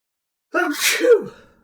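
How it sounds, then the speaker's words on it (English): A single close, loud sneeze bursts out after a moment of silence, with a sharp intake and a breathy release lasting about a second. "Sneeze."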